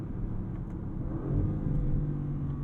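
A deep V8 engine rumble from a 2022 Audi RS6 Avant swells as the car accelerates, the throaty growl building louder in the second half.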